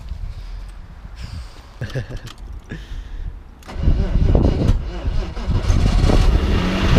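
A BMW E36 drift car's engine cranks a few times, then catches and roars to a loud, rough idle, with excited voices faintly in the mix.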